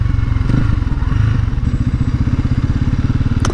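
A 2019 Genuine G400C cafe racer motorcycle being ridden, its single-cylinder engine thumping loud and close in a rapid steady pulse, with a brief rev change as it downshifts, and no talking.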